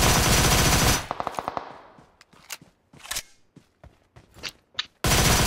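Rapid bursts of video game automatic gunfire, loud and close, with short volleys and scattered single shots in between, then heavy sustained firing at both ends.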